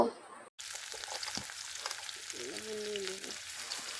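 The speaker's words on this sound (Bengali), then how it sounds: "কড়াইয়ের ভিতর তেল দিয়ে পেঁয়াজ মরিচ কুচি এবং লবণ দিয়ে বাদামি কালার করে ভেজে নেব" Chopped onion and green chili with salt sizzle in hot oil in a wok, a steady close crackling hiss that starts abruptly and continues throughout, with faint tonal kitchen sounds partway through.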